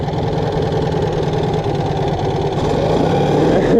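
A Citroën 2CV's small engine idles a bit irregularly at a French national 2CV car show, a close, steady, throbbing low putter heard alone for a few seconds.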